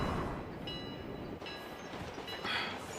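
A train passing in the BGMI battle royale game, a continuous rumbling roll with faint metallic squeals and brief hissing bursts, steady and fairly loud without any talking.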